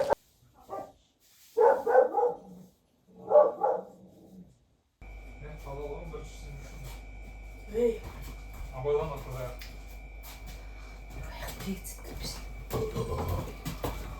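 A dog barks in short bursts early on, loud and close, then the scene shifts to a steady background hum with scattered fainter noises and some voices, near a house with a cellar.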